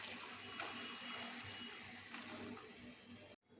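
Hot water pours steadily into boiled dal in a large cooking pot, a continuous close splashing rush that stops abruptly near the end.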